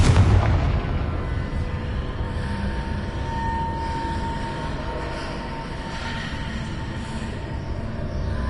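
Confringo blasting spell explosions in the Hogwarts Legacy video game, a loud, continuous rolling rumble of booms that carries through without any talk.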